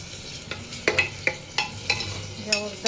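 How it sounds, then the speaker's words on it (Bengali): Marinated chicken sizzling in a hot pan while being stirred, with repeated scraping and clinking strokes of a spoon over a steady frying hiss, close and fairly quiet. "ম্যারিনেট মাংসটা দিয়ে দিই।"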